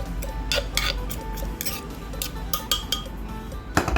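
A spoon clinks and scrapes against a bowl while stirring a chili paste mixture with warm water and scooping it out, making irregular close metallic taps and scrapes with no talk.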